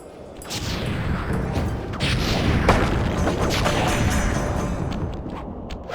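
Fireworks burst in Sly 3, a string of crackling booms and sharp cracks layered over a continuous noisy rumble, loud and dense from start to finish with no talking.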